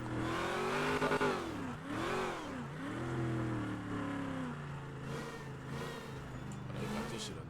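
A car revs hard at a Mopar car meet while sliding, the engine note loud and close, swooping up and down in pitch as the throttle rises and falls, with continuous tyre and exhaust noise throughout.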